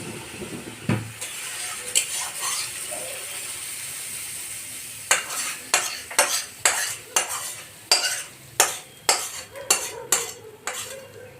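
Fried spice masala stirred into a pot of khichdi, a run of rhythmic scraping strokes of a spoon against the pot, close and fairly loud, each stroke distinct, following a quieter stretch of low sizzling, with no talking.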